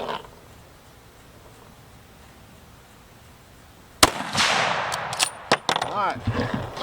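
A Browning X-Bolt rifle chambered in 6.8 Western fires a single loud, sharp shot after several seconds of near-quiet, followed by a rumbling echo and clattering handling noise.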